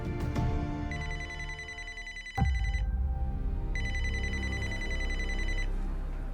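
A telephone rings during a call to the police, loud and close, in two long bursts of bright electronic ringing separated by a short pause, over a steady low background drone.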